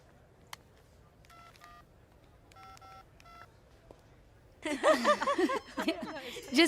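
Telephone dialing beeps sound in short tone clusters, each clear and fairly close in a quiet room, then a person talks and chuckles.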